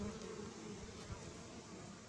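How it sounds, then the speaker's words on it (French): Honeybees at an apiary swarm over candy feed in a hive, giving a dense, continuous buzzing hum that stays close and steady throughout. "ce candy appétissant sera recouvert d'abeilles gloutonnes"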